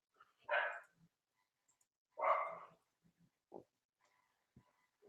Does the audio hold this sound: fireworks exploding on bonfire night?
no